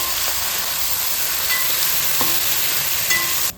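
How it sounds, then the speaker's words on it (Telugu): Ginger garlic paste fries in hot oil in a pan and is stirred now and then for a prawn pulao, giving a steady close hiss of sizzling with a few light scrapes and no voices. "పచ్చివాసన పోయే వరకు బాగా వేగాలండి అల్లం వెల్లుల్లి పేస్ట్"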